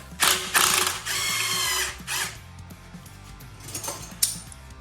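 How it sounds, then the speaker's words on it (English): An impact wrench hammers on the shock absorber nut of a 2015 VW Beetle clamped in a vise, several short loud rattling bursts close by, followed by quieter clinks and handling noises. "since we're not using this anymore, we'll put the impact on it"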